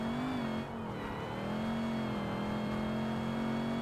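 A Chevy modern muscle car engine drones in a racing video game, a steady sustained tone that holds a constant pitch with a brief dip near the start, heard alone without talk.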